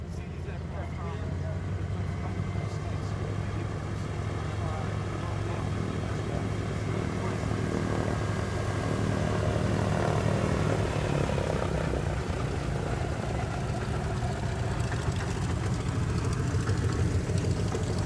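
Aircraft engines run at the Duxford air show, a steady, dense drone that holds for the whole stretch while people talk over it.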